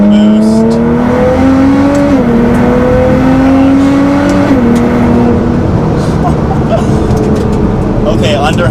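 Nissan GT-R engine pulling hard under boost through a turn, a loud steady drone that steps up in pitch with each gear change, with someone talking over it throughout.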